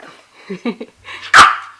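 A small puppy at home gives one sharp, loud bark after some soft low vocal sounds and faint background movement.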